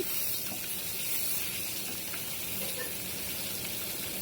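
Bitter gourd slices fry in a hot pan with a steady, close hiss and sizzle that holds evenly throughout, no voices over it.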